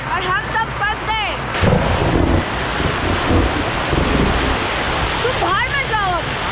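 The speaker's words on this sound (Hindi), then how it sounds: "इतनी जोर से बारिश चालू हो गई यहाँ पर" Heavy rain and a thunderstorm on a mountain trek to Shrikhand Mahadev make a dense, loud, continuous roar of wind and downpour. A few brief high whistling calls rise above it at the start and near the end.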